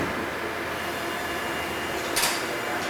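A Legacy CNC machine homes itself, a continuous broad mechanical drone with a short hissing swell just before it settles.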